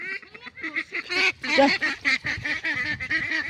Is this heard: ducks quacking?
yes